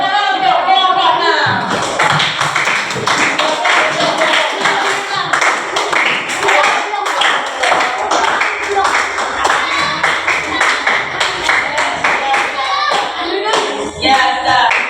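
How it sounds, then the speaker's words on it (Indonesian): A classroom of students claps their hands in a steady, dense burst that carries on for about fifteen seconds, loud and close, with voices mixed in throughout. "Tepuk tangan untuk jawabannya."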